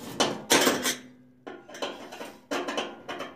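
A flat tip screwdriver clicks and scrapes against the screws of a Frigidaire oven panel, a few short, close metallic knocks separated by brief pauses.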